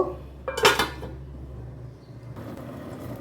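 A metal lid is set down on a pot of beef and potatoes with one sharp clatter, followed by a low kitchen hum and quiet rustling.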